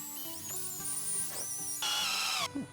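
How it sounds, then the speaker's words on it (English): An electric drill bores through glass for a candle holder craft, giving whining tones that rise and shift in pitch as the bit grinds, close up with no voices. "we're going to let the drill do the work and try and hold it as much as possible vertical"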